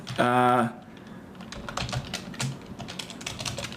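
Typing on a computer keyboard, a run of close, quick key clicks following a brief tonal sound at the start, with faint talk in the background.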